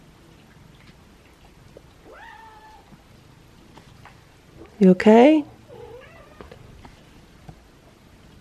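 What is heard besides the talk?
feral cats meowing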